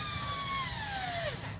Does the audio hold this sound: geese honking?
no